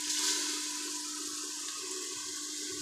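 About two spoons of water are poured into cooking mince with peas, a soft running splash and sizzle that holds steady for a few seconds with no talking.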